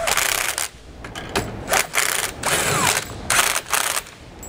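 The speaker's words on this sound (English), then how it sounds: "we'll go ahead and tighten down our U-bolts" A ratchet tightens U-bolts on a steering stabilizer bracket on a 1999 Freightliner, producing loud, close bursts of rapid clicking separated by short pauses.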